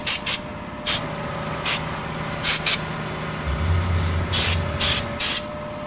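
A spray gun applying WoolWax undercoating to a Ford F-150 hisses in short, separate bursts, about a dozen quick trigger pulls in an uneven rhythm, loud and close, over a low engine hum.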